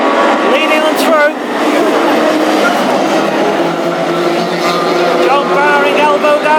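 Hot rod race cars roar past on a short oval track at a Hednesford final, a loud continuous engine din with rising and falling pitch as cars pass, under an excited commentator's voice.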